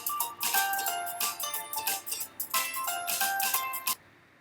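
Bright melodic music with chime-like tones plays steadily, then stops abruptly near the end, leaving only faint quiet hiss.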